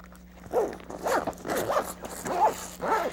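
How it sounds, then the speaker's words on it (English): A zipper closing a vinyl window on a 1997-2006 Jeep Wrangler, pulled in several short, rasping strokes with brief pauses between them, close up and fairly loud. "zip the windows all the way closed"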